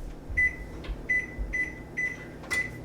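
An oven control panel beeps as the oven is set to 450 degrees: a series of short, evenly spaced electronic tones, close and clear over a quiet room hum, with no talking.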